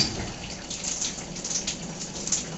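Water drains from an opened sink wash tub while an old pressure relief valve is removed from a water heater, giving a steady, moderately loud hiss and rush of flow with small splashy fluctuations and no talking.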